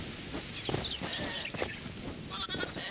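Sheep bleat in the Hytale video game, several short calls at a moderate distance over a constant low ambient hum, with a few soft footstep-like taps between them.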